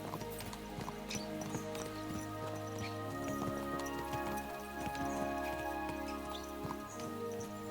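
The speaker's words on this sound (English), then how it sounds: "Let's really spur these horses on, eh?" Horses ride at a steady clip-clop in Kingdom Come: Deliverance II, the hoofbeats layered over a sustained in-game musical drone with faint rain-like patter, moderately loud and continuous with no speech.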